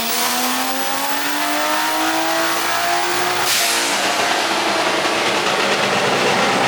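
A Barra-swapped Ford Mustang GT350 runs hard on a dyno: a loud, close engine note climbs steadily in pitch, then breaks into a harsher, broader roar that holds to the end.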